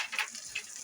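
Chopped tomato dropped into onions frying in a pan, a short burst of close, bright sizzling with a quick wet hiss that fades and then flares again.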